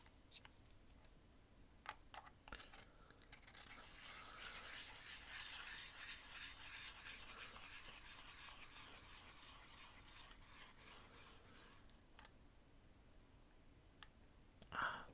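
Graphite pencil being sharpened for drawing, a steady, quiet rasping grind lasting about ten seconds, with faint clicks before and a brief tap at the end.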